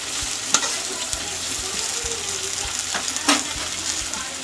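Cumin seeds crackle and sizzle in hot oil in a pan while a utensil stirs, with a couple of sharp metallic clinks against the steady frying hiss.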